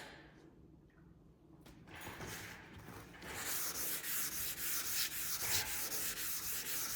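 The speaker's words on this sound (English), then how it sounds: "I'm just gonna sand this with the 600 until I get that orange peel out." Primer on a 1976 Trans Am is sanded with 600 grit sandpaper, first a soft faint rubbing, then a louder, steady back-and-forth scrubbing stroke repeating rhythmically up close.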